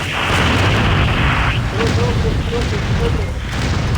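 A grenade in the shooter game Critical Strike bursts with a loud, rumbling boom over continuous gunfire and game noise, while a voice speaks briefly underneath.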